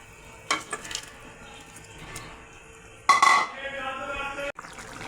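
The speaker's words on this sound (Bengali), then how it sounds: "ঝোল ফুটে গেছে, এখন ভেজে রাখা মাছ দিয়ে দেব" Fried tilapia pieces go into boiling gravy for a tilapia oil-chilli curry with onion stalks. Light utensil clinks come first, then a sudden loud burst of sizzling and bubbling that fades into a gentle simmer.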